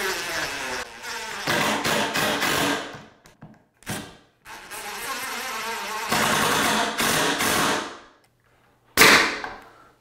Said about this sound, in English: I'll just drive those two screws in.